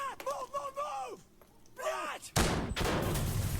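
A grenade detonates in the tactical shooter Insurgency Sandstorm: a sudden, loud, broadband blast with a long rumbling tail, following a few seconds of groaning vocal sounds.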